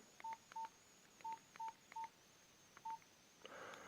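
A Nokia 105 phone (2013) plays a simple monophonic ringtone of short, faint electronic beeps, mostly in pairs with uneven gaps, ending in a brief burst of hiss.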